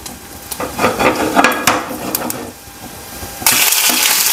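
Mustard seeds, urad dal and dried chilli tempering in hot oil for Tamil-style rasam, sizzling and crackling close up with stirring scrapes, then a louder, denser burst of frying near the end.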